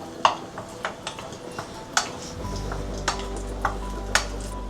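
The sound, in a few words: dates roasting in ghee in a pan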